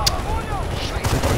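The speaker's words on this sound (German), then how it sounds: "Schweres MG!" Heavy machine gun fire in Battlefield Bad Company 2: a sharp, loud shot opens the moment, another follows about a second later, over rumbling battle noise and whining effects.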